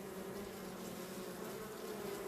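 A dense, steady drone of many honeybees buzzing around an open hive, close and continuous, with no voices.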